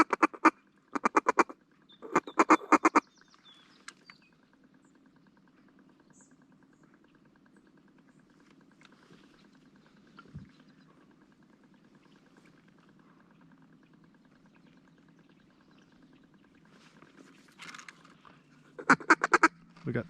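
Mallard ducks give loud bursts of rapid quacking near the start and again near the end on small public-land water during a duck hunt, with a quiet low hum in between and no talk.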